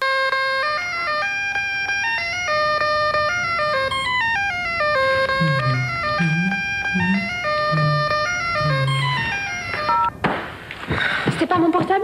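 A bright, melodic mobile phone ringtone plays in a TV advert, a steady run of repeating synth notes lasting about ten seconds, with a voice briefly talking underneath partway through before a noisy ending.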